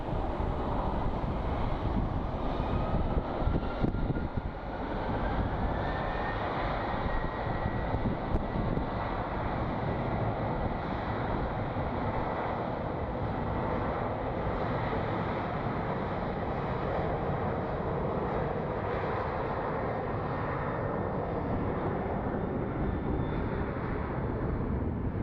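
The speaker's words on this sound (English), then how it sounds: "Alrighty, lift off, little dude. Come on, man. So 737 headed to Detroit." A Boeing 737 airliner roars down the runway and lifts off at Phoenix Sky Harbor, a loud continuous jet rumble with wind buffeting the microphone throughout.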